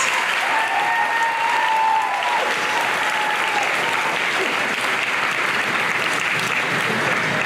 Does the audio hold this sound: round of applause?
yes